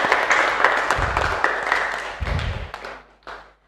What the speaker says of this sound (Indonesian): Tepuk tangan semuanya dulu